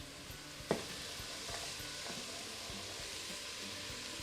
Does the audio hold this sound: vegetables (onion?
yes